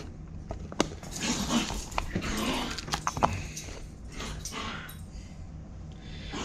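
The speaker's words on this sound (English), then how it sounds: "dogs are playing in the background" Dogs play somewhere in the background of a home garage, giving off scattered whimpers, snorts and panting over a steady low hum, with a few sharp knocks and clicks from nearby handling of small plastic garage diorama parts.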